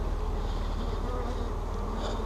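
Vacuumed honey bees swarm inside a van, making a dense, steady droning buzz that fills the space up close, with no voices.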